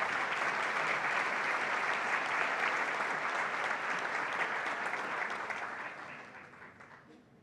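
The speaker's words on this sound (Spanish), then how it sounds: "Un aplauso para ella." An audience at a formal ceremony applauds steadily for several seconds, the dense clapping gradually thinning and fading away toward the end.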